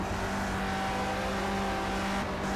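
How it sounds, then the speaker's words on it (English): A 1960s BRM Formula 1 car runs in the Project CARS racing game on the Rouen-Les Essarts circuit. A steady engine drone holds under constant road noise throughout. "I can hear the BRM behind me."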